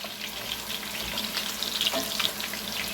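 Curry-seasoned turkey browns in a cast iron skillet with a steady, close sizzle and crackle that holds for about three seconds, no voices present.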